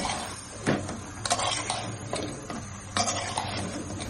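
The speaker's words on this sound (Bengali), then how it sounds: "এই মাংসটা খুব ভালোভাবে কষাতে হবে।" Beef bhuna stirred in a pot over a high flame, with a steady low sizzle beneath repeated scraping and clinking strokes of a spoon against the metal, close and moderately loud.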